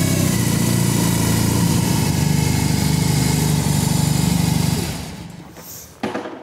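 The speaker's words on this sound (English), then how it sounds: "it is above all the over 150 newton meters of torque which turned this boxer engine and this bike into such a unique ride" A BMW R 18 Classic motorcycle's big boxer engine, with over 150 Nm of torque, throbs loudly and close as it rides in. It fades out after about five seconds, followed by a brief blip near the end.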